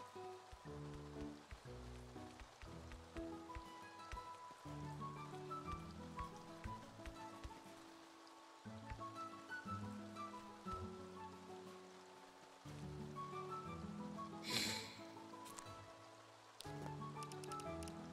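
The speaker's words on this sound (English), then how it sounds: "Ah, the nice sound of rain." Soft rain patters in the video game Staxel, a quiet wash of drops beneath gentle in-game music tones.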